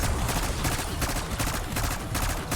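Rapid gunfire from an XM4 rifle on three-round burst in Black Ops 6 Zombies, with dense, continuous shots firing throughout at steady loudness alone.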